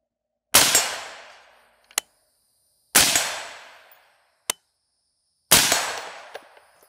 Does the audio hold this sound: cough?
no